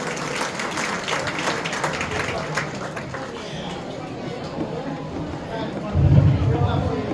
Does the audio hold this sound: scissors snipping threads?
no